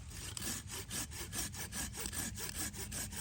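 A Silky Pocketboy handsaw cuts through a branch 1.5 to 2 inches thick with quick, even back-and-forth strokes, about a dozen rasping passes, close and fairly quiet.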